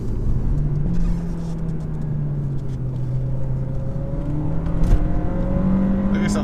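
A 2018 VW Golf pulls hard out of a corner, its engine note rising steadily in pitch under continuous road and wind noise, heard from inside the cabin with no talking.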